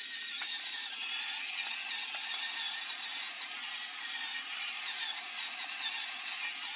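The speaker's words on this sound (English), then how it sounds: "And then some freshly ground black pepper." Black pepper is freshly ground over a buttermilk dressing, making a steady, close, gritty crunching rasp that continues evenly without pause.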